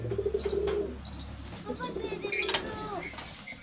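Pigeons of a prized Punjabi breed coo softly in short repeated calls close by, mixed with chirps while people talk over them.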